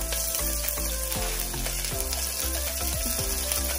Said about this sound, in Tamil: வெங்காயம் அப்புறமா பச்சை மிளகாய், அதை வந்து ஆயிலில் வந்து சேர்த்துக்கலாம்